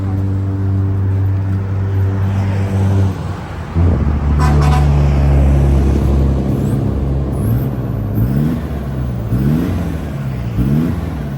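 A 2020 3.0-litre pickup truck revs through a custom exhaust with a center muffler and sand-blast style tip exiting at the rear, giving a loud, moderately smooth engine note that idles, then climbs in repeated sharp rev bursts.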